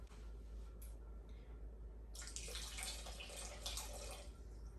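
Water pours from about two seconds on into an Instant Pot pressure cooker holding corned beef and potatoes, a broad steady splashing stream that carries on to the end over a low constant hum.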